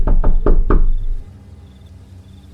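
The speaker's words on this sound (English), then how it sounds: "so I just knocked really hard." Four hard, loud knocks on a building's front door come in quick succession, followed by quiet.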